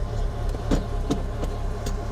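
A freshly rebuilt Mini Cooper S engine runs roughly, a steady low idle broken by several uneven puffs and stumbles, close and alone without voices.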